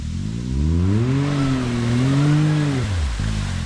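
A BRP Maverick X3 off-road side-by-side revs hard on a trail in Zakarpattia, its engine droning loud and close with rising and falling pitch, then dropping off sharply before a brief restart.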